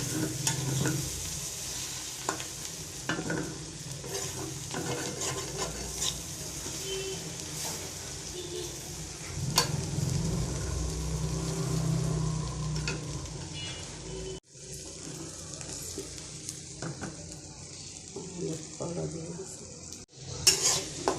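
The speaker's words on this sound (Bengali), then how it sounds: "মাছের ডিম দিয়ে করলা ভাজি করছি" Bitter gourd and fish roe fry and sizzle in a pan while a utensil stirs and scrapes steadily, with occasional clinks of metal against the pan, close and continuous with no talk.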